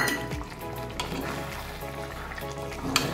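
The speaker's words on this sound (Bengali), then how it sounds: "এখানে এলাচ আর গোলমরিচ বাটা তোমাদের আগেই দেখিয়েছিলাম, এটা আমি দিয়ে দিচ্ছি। দিয়ে একটুখানি নাড়বো" Cardamom and pepper paste is stirred into a finished Sindhi chicken curry, a low bubbling sizzle with soft spoon scrapes and a light clink near the end.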